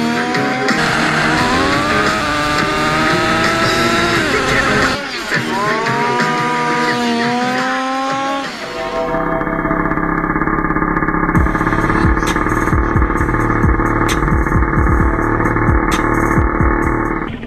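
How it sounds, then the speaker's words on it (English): A tiny OS 12 CVX nitro engine screams in a Team Losi XXX-NT RC car, its high buzzing pitch rising and falling through revs, then settling into a steady, loud drone close by. "eat eggs right out of the cooling head of this most significantly famous and collectible OS 12"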